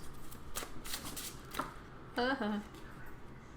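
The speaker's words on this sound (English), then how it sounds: "Let's take 3 more cards, or maybe 2. I'll take 2 more cards." A tarot deck is shuffled and cards are drawn, giving soft quick riffling and slides up close, with someone talking over and between the card sounds.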